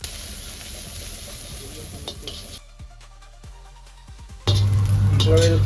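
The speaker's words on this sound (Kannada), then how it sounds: "ಇದನ್ನ ಇವಾಗ ಕ್ಲೀನಾಗಿ ಫ್ರೈ ಮಾಡ್ಕೊಳ್ಳೋಣ." Ginger, garlic and quartered green chillies fry in ghee for egg rice, giving a close, busy sizzle with stirring scrapes. It drops quiet briefly, then returns louder over a low hum.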